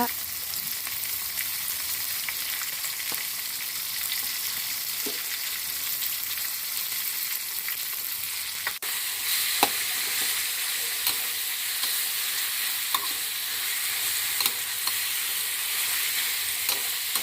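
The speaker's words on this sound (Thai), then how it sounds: "ก็ผัด ผัด ผัด ผัด ผัด ผัดให้หมูสุก" Pork stir-fried in a hot wok with chili and garlic for Thai basil stir-fry, a continuous hiss of sizzling oil with occasional clinks and scrapes of the spatula against the pan.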